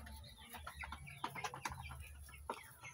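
Bantam hens and chicks in a coop, soft repeated clucks and chirps scattered irregularly, close but fairly quiet.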